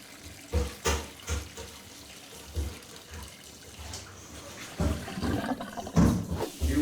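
Tap water runs over raw pork being washed in a kitchen sink for char siu, a continuous splashing flow with uneven surges that grows louder and fuller toward the end.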